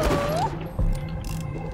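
Gunfire in Borderlands: The Pre-Sequel (Claptastic Voyage DLC): a heavy blast lands near the start, with further dull thuds and mechanical clatter over a rising electronic whine and a low game hum.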